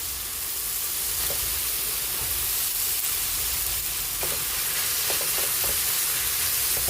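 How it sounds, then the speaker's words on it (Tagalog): Ground meat sautés in a pan with a steady, loud sizzle and hiss, broken by a few scraping stirs of the utensil, close and continuous with no talking. "Antayin natin mag-isa yung ating giniling"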